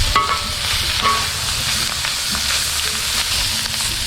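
Prime rib sizzles and fries steadily on a hot griddle, a loud, continuous crackling hiss with a few faint metallic taps, and no talking.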